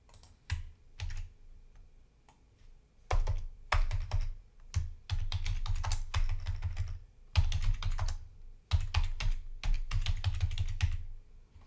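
SQL code is typed on a computer keyboard in bursts of quick, close keystrokes separated by short pauses, with a soft low thump under each run of typing and no voices.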